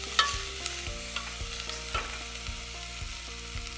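Onions sizzle and fry in a pot as the base for a vegan carrot ginger soup, a steady crackling hiss with a few clicks of stirring and light tapping, close and alone without talk.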